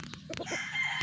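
A broodstag gamefowl rooster crows and clucks at close range, short clucks followed by a rising crow, in a farm setting with faint other birds behind.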